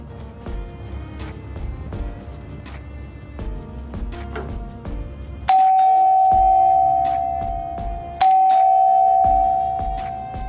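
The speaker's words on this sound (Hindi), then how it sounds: "लाउड साउंड मिलता है आपको इस डोरबेल में।" A budget electric ding-dong doorbell, a wired unit priced under 200 rupees, rings loudly and close by. It gives two clear chimes, each sustained and fading, after a stretch of louder mixed background sound.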